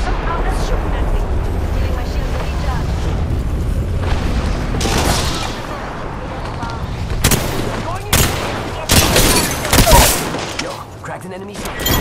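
Gunfire and explosions from an Apex Legends match crack and boom in bursts, with loud sharp volleys toward the end over steady game noise, and a player's voice talking over parts of it.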